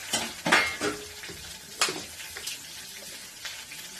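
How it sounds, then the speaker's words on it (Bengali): Bitter gourd frying in a hot wok at home, a soft steady sizzle broken by several sharp metallic scrapes and clinks of a spatula against the pan. "এদিকে কড়াই আমার গরম হয়ে গেছে, আমি উচ্ছেটা দিয়ে দিয়ে দেবো। উচ্ছেটাই ভেজে নিই"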